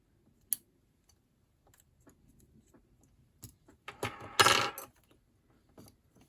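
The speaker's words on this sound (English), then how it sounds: "Let's see if I can pull all these gears out of here." Small metal gears being pulled from an AHM BL2 HO scale model locomotive with tweezers give a sharp tick, then sparse faint clicks and a brief cluster of close metallic rattling and scraping in an otherwise quiet room.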